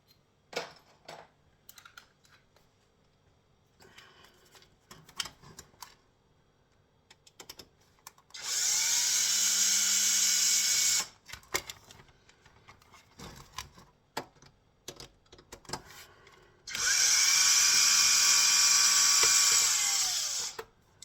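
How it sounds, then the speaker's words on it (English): A power screwdriver unscrews scrap electronics on a desk in two long, loud, steady whirring runs, separated by quieter clicks, taps and handling of parts and tools. "Let's see how long the screwdriver lasts today."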